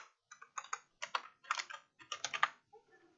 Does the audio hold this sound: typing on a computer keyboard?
yes